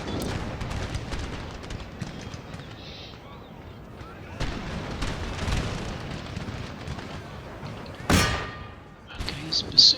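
Musket volleys and cannon fire crack through a battle in Empire: Total War with the Darthmod mod, with several sharp bursts near the 5 and 8 second marks over a continuous rumble of distant fighting.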